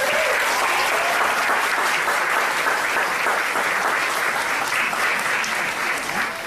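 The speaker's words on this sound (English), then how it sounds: "Please, let's hear it for the amazing Miss Jenna Hammelman." An audience at a music recital claps and cheers continuously, a dense wash of applause that holds steady and fades only slightly at the end.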